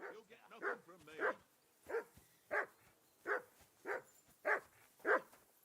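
Repeated dog barks from a video game dog, about nine sharp evenly spaced barks roughly every half second to second, fairly close and moderately loud, with faint game speech and background sound beneath.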